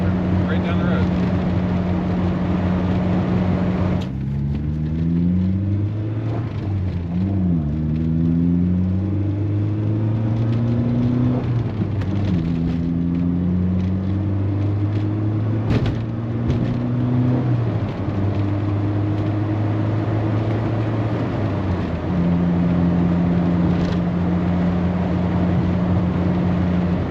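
A 1989 Volkswagen Cabriolet cruises at 60 mph, its steady engine drone and low road rumble running throughout, with the pitch rising and falling through gear changes midway before settling back into an even hum.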